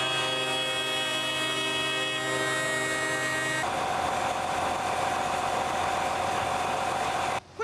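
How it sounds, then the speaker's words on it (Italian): Tractor engine idling at a farmers' protest, a loud steady drone that shifts partway through into a rougher, noisier rumble and continues without talk. "Questo trattore da cui è scesa quanto vale?"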